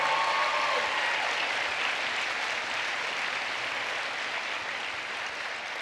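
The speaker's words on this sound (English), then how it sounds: "let's just give a round of applause to our 21 fabulous, fantastic forum leaders" Audience applause at a high school commencement ceremony, a dense, steady wash of clapping throughout that tapers only slightly toward the end, with no talk over it.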